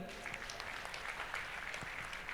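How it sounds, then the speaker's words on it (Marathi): An audience claps after a devotional music performance at a Shree Adishakti Puja in Saptashrungi Gad, giving a soft, distant, continuous patter of applause throughout. "वैष्णवीचा जोरात टाळ्या"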